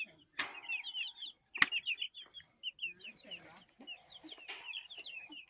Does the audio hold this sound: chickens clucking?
yes